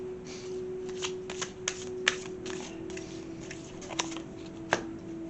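Tarot cards being shuffled and drawn during a Halloween reading, a quiet run of soft riffling and sharp card flicks and taps, spaced unevenly over a faint steady hum.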